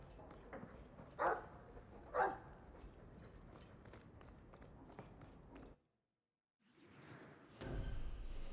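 Two loud, close dog barks about a second apart in Dragon Age 2, over a low game background, followed by a brief silence and then a rising rush of sound.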